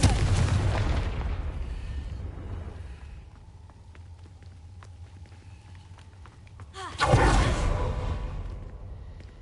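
A Confringo fire spell blasts in the Hogwarts Legacy video game, a loud broadband explosion at the start that fades over a few seconds, then a second heavy burst near the end, with quieter game ambience in between.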